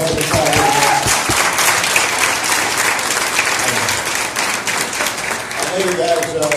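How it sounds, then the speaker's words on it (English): Steady audience applause at a fundraiser show in Maine, a dense wash of clapping hands lasting throughout, with voices faintly audible beneath it. "they deserve a tremendous round of applause for having us out here"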